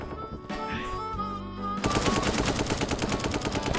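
Rapid, sustained machine gun fire from the Brick Rigs video game, a loud continuous rattle of closely spaced shots that starts partway through and carries on to the end, with other game sounds before it.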